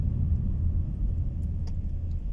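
A quiet, steady low rumble of an idling automatic non-electric car engine, smooth and continuous with no other sounds on top.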